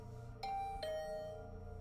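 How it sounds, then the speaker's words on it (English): A two-tone ding-dong doorbell chime rings once inside the video game The Hundred Line, clear and bright over soft background music, the second tone lingering. "The bell rang again."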